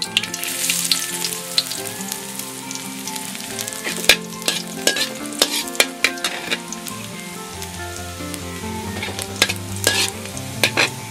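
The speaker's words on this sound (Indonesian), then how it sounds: "Oke, masukin dulu bawang putih." Garlic fries in hot oil in a wok for Pad Thai, a steady, close sizzle broken by sharp stirring scrapes and clatters throughout.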